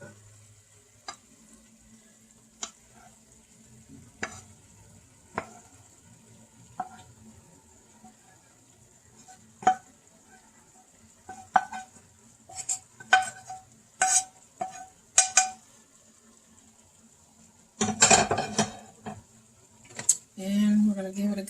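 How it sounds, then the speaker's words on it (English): Ground beef cooking in a pan for a keto meal prep, scattered utensil clicks and scrapes against the pan over a faint sizzle, growing into denser stirring toward the end, with a voice speaking intermittently. "we're going to give it a good stir and let that just kind of cook for a second"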